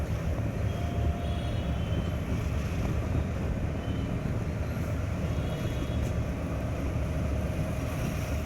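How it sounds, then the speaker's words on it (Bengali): A train rolls past at a railway station after rain, with the crossing gate raised, giving a steady, loud rumble and rattle of rail cars that holds throughout, with wind buffeting the microphone. "এই যে ট্রেন যাচ্ছে।"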